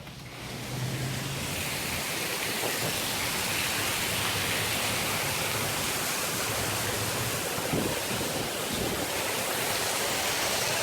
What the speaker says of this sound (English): It's raining a lot down.